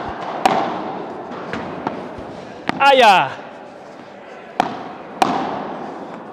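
A padel ball is struck with an Adidas Adipower Legend racket on a court, giving several sharp, hard pops spread irregularly over a few seconds. A brief shout and some talk occur in between.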